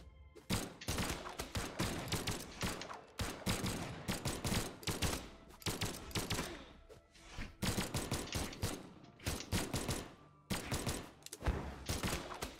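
Rapid bursts of blaster fire from a Brawlhalla match crackle in quick, dense volleys, with short pauses between flurries, loud and close, no talking.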